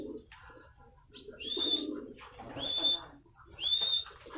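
Racing pigeons at a loft, with soft cooing and fluttering and three short high whistling chirps rising above low bird sounds, close and moderately quiet.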